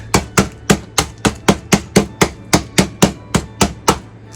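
Mint Oreo cookies chopped with a knife on a board, about fifteen sharp, evenly spaced thuds in a quick steady rhythm, loud and close with no talk.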